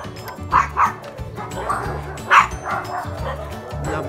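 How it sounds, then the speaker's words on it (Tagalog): Dogs barking out on rural land in Bicol, with several sharp close barks and yips in short bursts over a low rumble, plus a few whimpers between them. "Labasan na lahat ng aso dahil kay Bella. Ang ingay"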